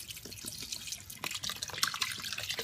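Stock poured into a pot of pasta for a sweet potato alfredo, a steady close liquid splash and trickle with light dribbling, alone without talk.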